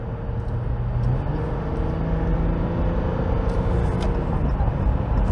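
A RAM 1500 EcoDiesel pickup with its turbo spooled up accelerates toward highway speed, producing a steady, loud engine and road rumble from inside the cab with no break.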